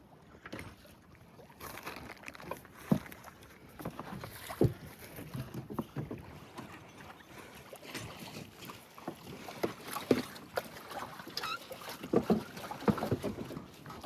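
A wooden fishing boat worked with oars for traditional-style fishing, its paddles dipping and knocking in uneven strokes on the water, with light splashes and wind noise near the microphone, and no talking.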